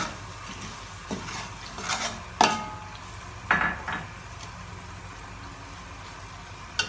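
Turmeric and onions sautéing in a pot for Saudi kabsa with lamb, with a soft low sizzle under several sharp spoon scrapes and clanks against the pot at irregular intervals.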